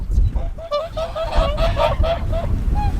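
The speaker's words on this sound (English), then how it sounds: "There's still birds here." Geese honk repeatedly in a quick, uneven series at a lake in a small northern Japanese village, loud and close over a low outdoor rumble.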